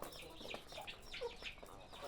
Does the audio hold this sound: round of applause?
no